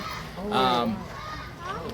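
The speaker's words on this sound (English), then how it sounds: "there's 2 peacocks in the tree" Peacocks calling from a tree at a wildlife sanctuary, with one loud, honking cry in the middle and a fainter call near the end.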